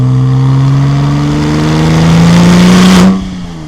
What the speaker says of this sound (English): Back to 3rd. Really easy car to downshift.